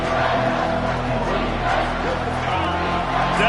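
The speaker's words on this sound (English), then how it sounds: "Decibels rising as the crowd gets behind this defense on 3rd down." A college football stadium crowd roars steadily during a critical third down in overtime against Kentucky, a dense continuous wall of cheering and noise with announcer talk over it.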